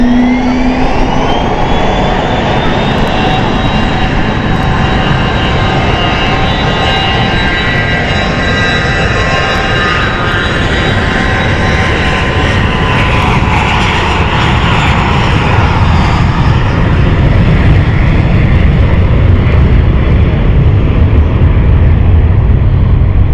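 A jet airliner takes off from London City Airport's runway 09, a strong engine roar with a rising whine, building and then sustained close and loud with no talking.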